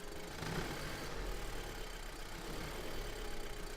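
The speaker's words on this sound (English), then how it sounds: "listen to the sound of the engine" A car engine idles with a steady, even rumble and a faint mechanical hum, continuous and close, with no revving.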